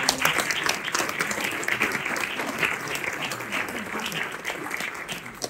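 Audience applause for Mélissa at a politician's 2024 New Year's wishes gathering: dense, steady clapping from a crowd that fills the whole stretch at an even, fairly loud level.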